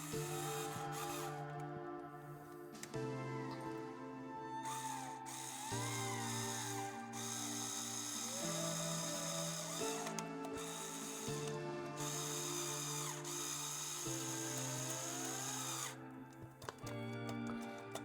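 A small ratchet tool tightens a bolt on an RC axle leaf spring mount, producing close, rapid clicking in repeated bursts with brief pauses between strokes.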